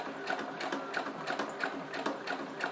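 Sewing machine running steadily while stitching all the way around a fabric wallet, its lengthened stitch set to 3.5, with a quick rhythmic mechanical whir and needle ticking, fairly close and alone.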